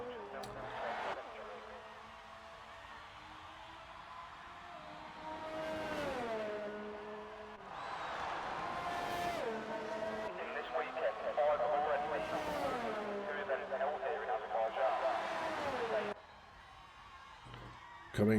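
Race cars in a racing game lap the Azerbaijan circuit, engines whining and revving through repeated gear changes as several cars pass close by under a commentator's voice.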